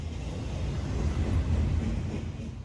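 A CPKC freight train rolls past in Montreal, a steady loud low rumble of rail cars holding without pause throughout.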